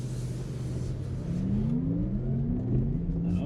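A Porsche Taycan Cross Turismo electric car accelerating, its rising motor whine climbing steadily in pitch over road rumble, heard from inside the cabin with no talk.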